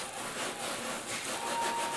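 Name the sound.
ceramic plate rubbed on sandpaper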